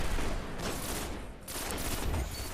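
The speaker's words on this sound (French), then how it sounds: "Voilà, une rafale." Gunfire in a Destiny PvP match fires as a dense, continuous burst of rapid shots, loud and unbroken for a couple of seconds.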